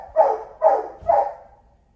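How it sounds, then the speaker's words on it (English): A dog barks three times in quick succession, fairly loud and close, with a steady rhythm, and the clip ends in quiet. "sorry, the dog is barking"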